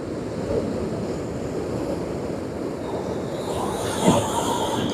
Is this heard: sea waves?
yes